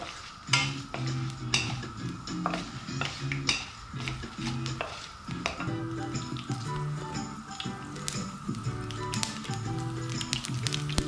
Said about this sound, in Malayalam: അപ്പോൾ വെളിച്ചെണ്ണയിലേക്ക് ഞാൻ വറ്റൽമുളകും കടുകും ഉലുവയും കൂടി ഇട്ടുണ്ടാം.